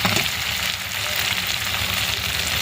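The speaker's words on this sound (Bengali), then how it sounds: "ভালো করে মশলাটাকে কষিয়ে নেবো যতক্ষণ না মশলা থেকে তেল ছাড়ে।" Spice paste fries in oil for a country chicken and potato curry, a loud, constant crackling sizzle close up, with faint stirring movement underneath.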